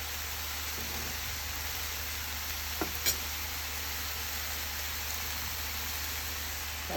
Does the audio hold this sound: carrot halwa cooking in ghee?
yes